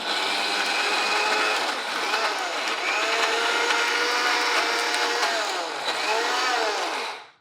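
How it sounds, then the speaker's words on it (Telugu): Electric mixer grinder blending urad dal chutney with a little water, a loud continuous whirring drone with slight pitch swells as the load shifts, cutting off abruptly at the end. "కొద్దిగా నీళ్లు చేరుస్తూ మెత్తగా రుబ్బేసుకోవాలి."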